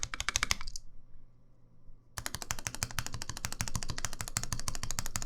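Typing on a Singa Jaguar mechanical keyboard with Cherry MX Black switches and beater keycaps: rapid, close keystroke clacks in a steady stream, a brief pause, then a longer unbroken run of quick taps.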